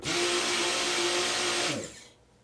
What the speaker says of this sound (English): I don't know if you can hear that little whine that's going on in there